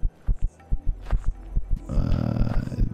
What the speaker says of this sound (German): ich glaube, den Herzschlag, den ihr gerade hört.